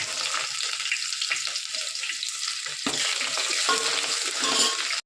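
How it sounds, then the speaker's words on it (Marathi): Onion dropped into hot oil for tempering after mustard seeds and cumin, giving a continuous close, bright sizzle with crackles, a sudden louder burst of frying midway, and stirring scrapes through to the end. "थोडा कांदा सोडते फोडणीला."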